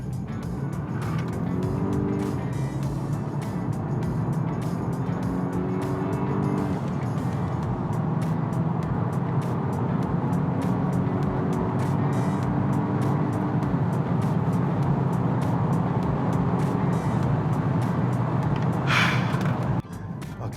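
Volvo V60 wagon accelerating in power mode on an open road, a continuous loud cabin drone with rising tonal whine layered over road and wind noise, ending with a brief hiss.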